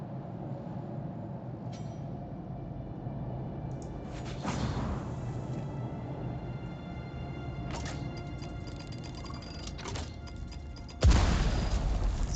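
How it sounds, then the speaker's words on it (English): Gunfire and explosions from the Dune video game, with a deep boom around the middle and a loud burst near the end over steady game ambience, and no talk over them. "So someone's shooting at me."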